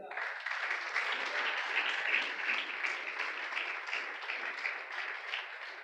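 A congregation at a church sermon applauds steadily and warmly, a dense continuous clapping that holds for several seconds at even strength.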